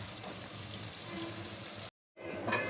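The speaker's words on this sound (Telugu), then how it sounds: "2 వైపులా బాగా ఫ్రై అయిపోయింది" Eggs fry in masala and oil in a pan for an egg masala curry, giving a steady close sizzle that stops briefly and then resumes.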